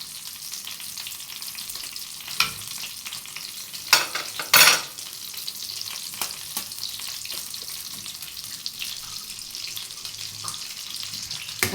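Country ghee (clarified butter) sizzling in a frying pan, a steady close crackle and hiss broken by a couple of sharp metallic clanks and bursts of spatter midway.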